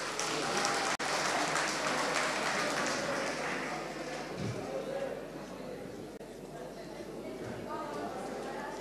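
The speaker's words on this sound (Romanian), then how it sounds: "Aplauze, doamnelor și domnilor!" An outdoor crowd applauds at a ceremony honoring couples for fifty years of marriage, a steady mass of clapping that fades slightly over time, with voices and chatter mixed in and a sharp knock near the start.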